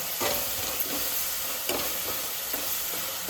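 Tomato paste and masala fry in a pan for a mushroom curry, a continuous close sizzle and crackle broken by rhythmic scraping strokes of a spoon stirring the mixture.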